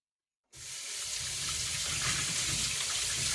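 Tap water suddenly turns on and runs steadily under a faucet as an ingredient for a perpetual stew is washed, a loud continuous rushing stream that continues to the end.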